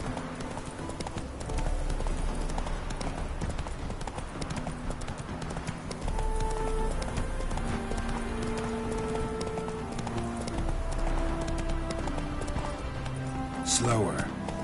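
Geralt's horse Roach galloping in the video game The Witcher 3, with steady rapid hoofbeats running throughout under game music, while a voice talks over the action.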